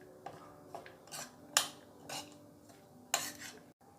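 Salt and chaat masala are stirred in a bowl with a spoon, giving several soft scraping strokes and small clinks spread over a few quiet seconds, close by.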